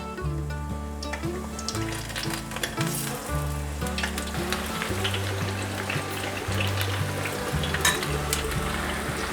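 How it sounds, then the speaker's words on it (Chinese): Cabbage vegetable balls deep-frying in a wok of hot oil give a steady, close sizzle and crackle, with a light scrape or stir now and then and background music, no talking. "用汤匙取1球， 放进油锅里面炸。"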